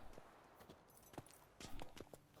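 Horse hooves clip-clopping in The Witcher 3 on Xbox, a few uneven hoof knocks close by over a low ambient bed.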